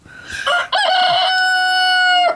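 A rooster crows loudly and close by: one sustained, drawn-out crow held for about two seconds, following brief clucking from chickens.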